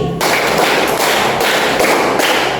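A group claps together in a rhythmic counting game, loud close bursts of claps repeating in quick, regular sets without pause.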